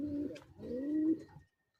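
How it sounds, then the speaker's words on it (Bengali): A pigeon on a tin-roofed rooftop gives one soft, rolling coo in two swells, quiet and nearby, then stops. "সমস্ত কবুতর ছাদের উপরে"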